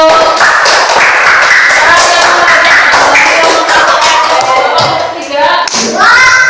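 A classroom audience claps for a group of students, a dense, loud, steady patter of many hands with voices and cheers mixed in throughout.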